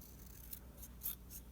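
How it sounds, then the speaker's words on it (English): Scissors snip at paper stripped off a length of wire, giving a few faint, quick cuts and rasps in a quiet room. "You can even trim the paper ones with your scissors"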